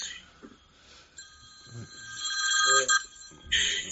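A phone rings with a bright, sustained electronic bell tone that swells and repeats, growing louder toward the end, with faint voices in the background.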